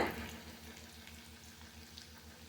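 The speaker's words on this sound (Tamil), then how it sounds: "இப்போது இது எல்லாத்தையும் நல்லா கோல்டன் கலரில் நல்லா ஃப்ரை பண்ணிக்கோங்க." Ginger and garlic fry in a pan for an egg curry, a steady low sizzle with faint crackles running throughout, close and moderately quiet, with no talking.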